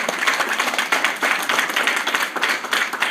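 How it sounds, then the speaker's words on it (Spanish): A church congregation claps together during a Spanish-language sermon, producing brisk, rhythmic clapping in dense waves that fill the whole short stretch without a break. "¿Cuánto le dan el aplauso a nuestro Señor?"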